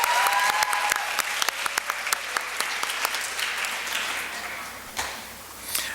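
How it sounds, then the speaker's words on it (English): A school audience applauds a third-place winner at a high school fine arts festival awards: a full burst of clapping at first that thins to scattered, isolated claps before dying away. "Well, let's give her a round of applause."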